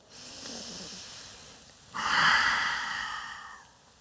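Forceful breathing during a pranayama exercise: a softer, airy breath for about two seconds, then a louder, rushing breath lasting nearly two seconds, heard up close with no talking.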